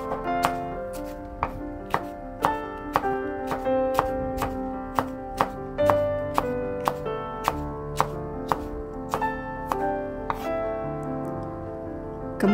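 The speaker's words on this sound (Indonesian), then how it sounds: "1 buah cabai merah dan 1 buah cabai hijau. Ini saya potong serong." A knife slices red and green chilies diagonally on a cutting board, giving a steady run of crisp, evenly spaced chops close by, about two per second over a faint background hum.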